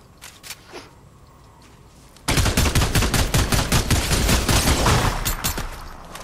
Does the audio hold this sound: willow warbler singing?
no